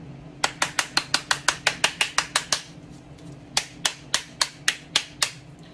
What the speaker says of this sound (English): take your spoon and give some taps around the outside